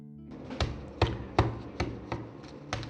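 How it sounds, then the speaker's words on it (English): A plant pot being tapped to settle the soil while repotting a cactus or succulent: six dull, close knocks spaced about every half second, with no talking. "I tap the pot just to settle in the soil"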